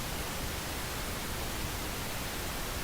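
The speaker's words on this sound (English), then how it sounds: "Let's just play some Pink Noise." Constant soft hiss of pink noise played from a phone, smooth and unchanging throughout, like steady static with no breaks.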